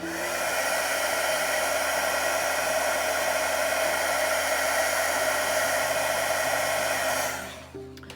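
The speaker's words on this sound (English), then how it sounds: "once your heat gun has warmed up, it's going to take a lot less time to do the embossing" A heat gun blows a steady, loud, close whooshing roar while embossing gold accents on a wood panel, holding constant for about seven seconds before it shuts off and winds down.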